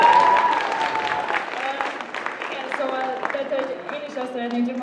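Audience applause at an anime panel discussion during a summer convention, clapping loud at first and then fading while tonal sounds and a voice come through beneath it.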